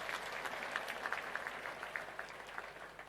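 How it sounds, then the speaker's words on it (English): An audience claps for the president at a gathering at Sagana State Lodge: a steady, moderately loud stretch of overlapping applause with scattered sharper claps, continuous for about three seconds. "Can you clap for our president?"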